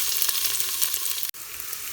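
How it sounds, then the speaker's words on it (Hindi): Onions with cumin frying in hot oil make a bright, even sizzle close by, with a brief dip near the end. "प्याज को हम अच्छी तरह से हल्का सा कच्चा पक्का फ्राई कर लेंगे"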